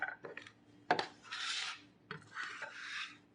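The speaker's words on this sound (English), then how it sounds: "We're going to chop these up a little bit on the chopping board." Water chestnuts being chopped on a chopping board for a casserole: a sharp knife strike near one second, then two longer scraping, rasping passes across the board, close and fairly quiet with no talking.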